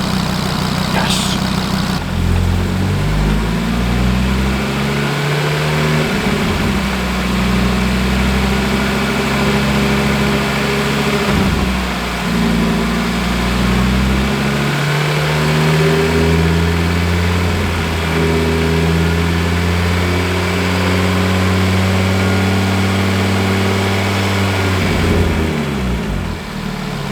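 An Audi RS3 with the DAZA engine runs loud and close, idling steadily while the revs rise and fall several times in repeated climbing and dropping sweeps.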